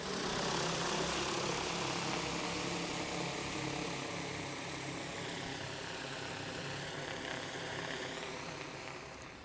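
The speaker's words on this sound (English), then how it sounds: "So the drone's gonna go up to 30 meters." A DJI Agras T50 agricultural drone flies a mapping mission, its rotors giving a constant, fairly faint whirring drone that holds steady and then fades slightly toward the end.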